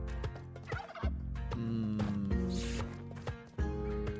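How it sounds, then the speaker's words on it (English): Turkey gobbling from the video game Spelunky 2: a series of loud, rapid warbling gobbles with clicky game effects mixed in, close and clear with no talking. "Please, give me that turkey."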